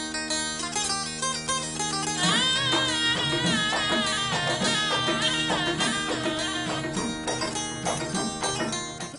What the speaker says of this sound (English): a sitar, which is an Indian stringed instrument, a bit like a guitar